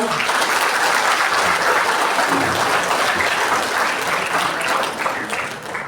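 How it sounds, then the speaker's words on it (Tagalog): Congregation at a church anniversary service breaking into sustained applause for the youth, a dense, loud wash of clapping that holds steady and tapers slightly at the end. "Hindi nyo ba kayang ibigay ang palakpak sa kabataan?"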